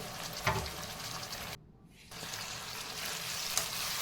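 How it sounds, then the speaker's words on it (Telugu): Chicken liver sizzles and fries in hot oil while being stirred in a pan, a close, steady crackle with a brief pause in the middle. "ముందుగా కడిగి పెట్టుకున్నాం కదండి చికెన్ లివర్ని ఇందులో వేసుకొని మొత్తం ఒకసారి కలుపుకోవాలి"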